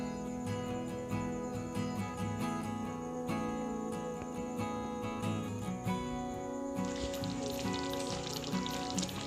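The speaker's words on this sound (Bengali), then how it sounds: "দিয়ে ভালো করে খুন্তির সাহায্যে মিশিয়ে নিতে হবে।" Chicken gravy with khoya kheer sizzles quietly in a pan while a spatula stirs it. The soft, steady frying hiss runs throughout under light, irregular scraping and tapping, with no voices.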